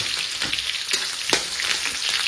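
Onion hisses and sizzles in hot oil for chicken fried rice, a continuous bright crackle with small pops and a few louder spits of a spatula stirring, close to the pan and without voices.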